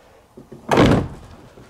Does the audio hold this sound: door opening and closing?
yes